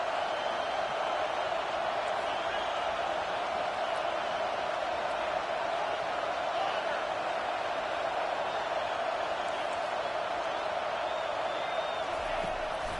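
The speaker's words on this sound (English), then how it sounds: "Here comes this home crowd as the defense tries to get off the field on 3rd down." Home stadium crowd in the NCAA 25 college football game, a dense continuous roar of many voices, steady and loud with sustained cheering and no pauses.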